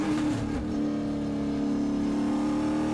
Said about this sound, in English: we hear him downshift into third gear